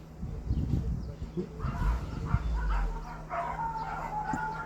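Several dogs bark and yip far off, faint and overlapping, with a low background rumble.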